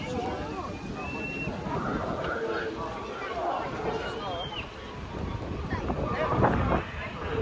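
Large boats churn across open water during a boat race at a village fair in the UK, under strong wind rumble, with a crowd of voices talking and calling in the background throughout.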